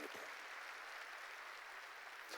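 A church congregation claps together during a Korean sermon, a continuous, fairly faint wash of applause that fills the whole moment and fades out at the end.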